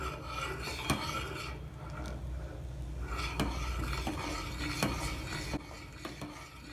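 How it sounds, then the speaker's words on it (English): Milk being stirred in a pot with a utensil, a steady scraping and rubbing with periodic sharper clinks against the metal, moderately quiet and without talk. "Stir the milk so that it will not stick on the bottom."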